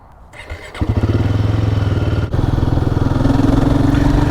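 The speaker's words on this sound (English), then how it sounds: "welcome on board the Royal Enfield 450 Guerrilla. It's a 450cc, 40 horsepower, 40 torques" A Royal Enfield Guerrilla 450, a 450cc water-cooled single-cylinder motorcycle, fires up and rides off with a loud, close, steady thumping engine note that climbs slightly as it pulls away.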